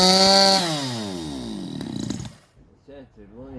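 A 62cc Chinese chainsaw rumbles with a sweeping engine whine for about two seconds, then cuts out into near silence before short sputtering restart attempts.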